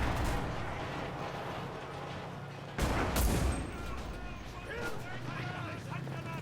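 Gunfire and explosions in the video game Enlisted sound as a dense, continuous battle din, with a sharp loud blast partway through and a person talking over the noise.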